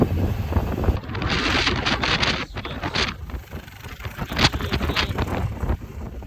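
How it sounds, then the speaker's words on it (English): Strong wind blusters across the microphone outdoors on open farm ground, gusting loudly in uneven surges, easing briefly around the middle before rising again; no one speaks. "A little windy, but it's not so bad if you turn your back to it."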